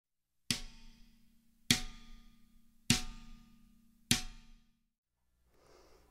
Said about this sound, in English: Sometimes you might find yourself hitting the rim only.